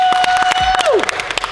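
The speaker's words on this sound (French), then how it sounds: "Venez, on applaudit Sean parce qu'il a gagné." A small group claps briefly in an indoor basketball hall to cheer a player who has just won a shooting contest, quick sharp claps mixed with a short vocal sound and background voices.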